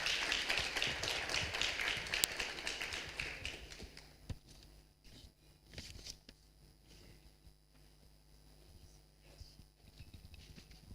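An audience applauds a keynote speaker, the EU ambassador, at a funding launch event in Tanzania. Dense clapping fills the first few seconds, then thins to scattered claps before the room falls quiet.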